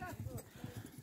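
Horse hooves clip-clop in a quick, uneven rhythm while a new Kyrgyz horse from Talas is led around during preparation for ulak, with people talking over the steps.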